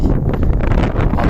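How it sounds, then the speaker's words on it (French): Strong wind gusts buffet the microphone on an open, grassy mountain summit in the Cantal, the Puy de l'Arpon du Diable at 1777 m, a loud continuous rumbling roar with a rushing hiss and no talk. "Le vent s'est levé là. Je sais pas si on m'entend. Ça souffle bien."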